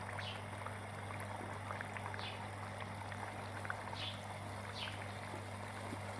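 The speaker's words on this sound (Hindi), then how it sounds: "और अब मैं इसको फ्राई करूँगा।" Nargisi kofta frying in hot oil in a pan, giving a faint, steady sizzle and bubbling that runs evenly throughout with no talking.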